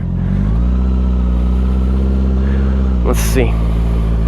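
A 2021 Honda CBR650R motorcycle engine holds a loud, steady throttle hum with a slight pitch shift early on, and someone speaks briefly near the end.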